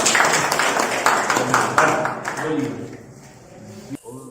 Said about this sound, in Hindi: ताली बजा के लोग स्वागत कीजिए।